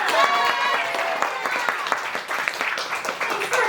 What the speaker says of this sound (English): Round of applause for Sarah!